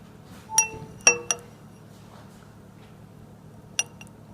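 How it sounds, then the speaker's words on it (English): A spoon stirring liquid in a glass during a simple acid experiment, striking the glass in three quick bright clinks close together, then a single clink a few seconds later, with quiet pauses between. "And now I'm going to stir it a little bit"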